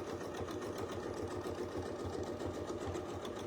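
A sewing machine stitching out a circular quilt design with rulers, running at a fast, even, continuous rhythm close to the listener.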